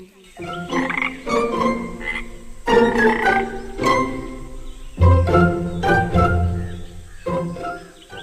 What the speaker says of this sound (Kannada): ಅಲ್ಲಿ ಪಕ್ಕದಲ್ಲಿ ಒಂದು ಕೊಳದಲ್ಲಿ ಹಲವಾರು ಕಪ್ಪೆಗಳು ಬದುಕ್ತಾ ಇದ್ವು.